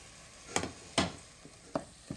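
Minced meat and chopped onion frying in a pan, a faint sizzle broken by four or five sharp scraping stirs of a spoon, close and quiet.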